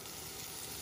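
Potatoes and squash dry stir-frying in a wok without water, giving a steady, close hiss of frying.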